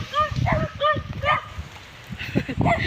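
Dogs bark and yip close by in short overlapping bursts, mixed with excited whimpering cries, while a person speaks over them.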